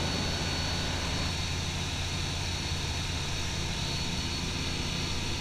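Skyranger light aircraft engine in flight, a constant broadband drone and rushing wind noise heard from inside the cockpit, steady and unbroken.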